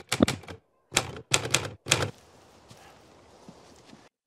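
Mechanical typewriter keys strike in quick clustered bursts, close and crisp, followed by a softer trailing rustle as a report is typed in a war drama scene.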